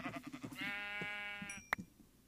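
Several sheep bleat in the Minecraft video game: a run of short baa calls, then one long, wavering bleat and a sharp final call, close and clear with no talk.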